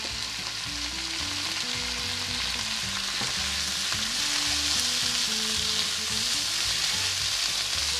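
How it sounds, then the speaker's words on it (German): Cauliflower mushroom sizzles in a pan with onion, garlic and red pepper, a steady loud frying hiss with faint stirring scrapes throughout and no voices. "Die kann noch etwas mit anschwitzen und dann kommt die krause Glucke dazu."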